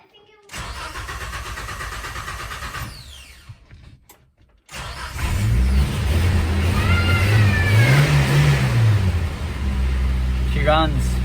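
A Geo Tracker's engine cranks with the clutch in, cuts off briefly, then catches and runs, revving up and down in wavering swells before settling to a steady idle; close and loud.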